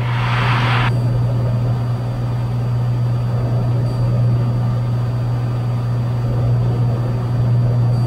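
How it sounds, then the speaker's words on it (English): Steady droning hum of a Stearman propeller plane's engine in a cabin during flight, continuous and unchanging, with a brief hiss at the start. "I'm flying the plane right now."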